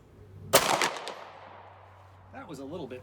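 A single loud rifle shot from a .45-70 1885 High Wall firing powder-coated bullets cracks sharply and rings off into a fading tail, followed near the end by someone speaking.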